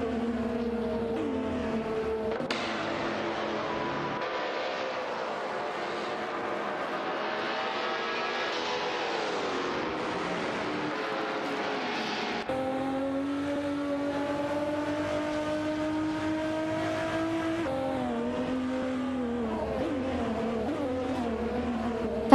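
Race cars in an AI racing video game drone past with rising and falling engine tones, shifting pitch as they accelerate and change gear, loud and continuous with no speech.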